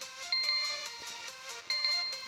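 An electronic timer ringing in a video game repeats in two bright bursts over a continuous chiming pattern, steady and fairly loud, with no speech.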